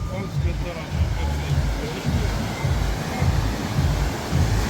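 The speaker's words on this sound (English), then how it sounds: "the river passes right underneath the terrace" A river rushes right beneath a terrace at accommodation along the Tajik–Afghan border, a loud, steady low roar of flowing water that runs through the whole stretch while someone talks over it.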